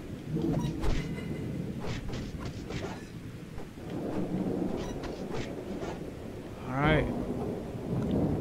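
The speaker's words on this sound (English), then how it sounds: "A lot of rain here." Steady rain with rumbling thunder from the Karate Kid Street Rumble video game, a dense continuous wash broken by louder crackling bursts and one sharp thunder peak near the end, with no talk over it.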